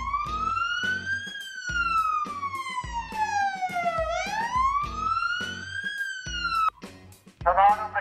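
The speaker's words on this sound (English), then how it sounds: "there's a big siren growing" A loud siren wails in slow rising and falling sweeps, close by in a canyon in Saudi Arabia's Asir Mountains, over a rhythmic thumping beat, ending in a brief burst of other sound.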